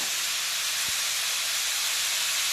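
Curry leaves dropped into a hot pan for a Kerala-style egg roast, a loud, steady broad sizzle and hiss filling the whole moment.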